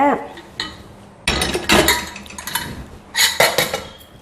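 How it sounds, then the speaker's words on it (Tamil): A metal pressure cooker is picked up and handled in a home kitchen, giving several close, sharp metallic clanks and clinks in bursts separated by brief pauses. "இப்ப பாருங்க, நான் ஒரு குக்கர் எடுத்துட்டேங்க"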